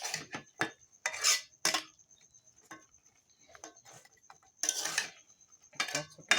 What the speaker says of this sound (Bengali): টমেটোটা দিয়ে কতক্ষণ নাড়াচাড়া করবো।